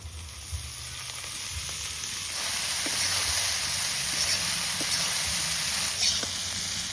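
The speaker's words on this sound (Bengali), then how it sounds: "এবার কুচিয়ে নেওয়া শাক ঢেলে দেবো।" Finely chopped kalmi (water spinach) greens tossed into hot oil with fried garlic give a steady, close, crackling sizzle that swells louder a couple of seconds in and holds, with occasional stirring clicks.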